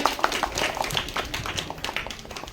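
Brief applause at a school children's quiz festival greets a correct answer, a short burst of scattered clapping from a small group, moderately close and fading quickly.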